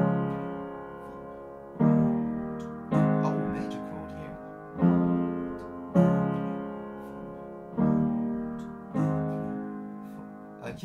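Piano playing a simple arrangement of part of a song in an easy lesson setting, with a repeated chord pattern struck every couple of seconds and each chord decaying before the next.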